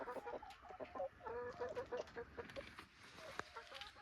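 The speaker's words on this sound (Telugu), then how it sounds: "చూడండి చూడండి కోళ్ళు." Chickens cluck in irregular bursts at a farm near a villa in Wayanad, soft and somewhat distant, with overlapping short calls and no one speaking.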